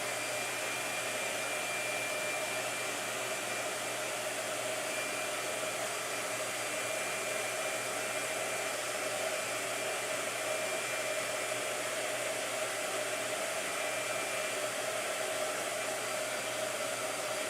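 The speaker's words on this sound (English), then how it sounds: "All right, blow dryer." A blow dryer runs continuously at a steady, even level in a quiet room during a gouache painting session, a constant broadband hiss with no talk over it.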